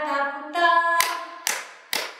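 Hands clap three times, sharp and close, after a sung children's music-class melody, each clap spaced about half a second apart with the singing fading beneath.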